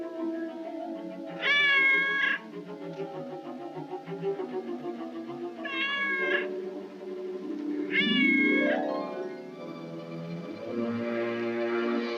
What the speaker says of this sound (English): lost that cat, I'd swear I put her out.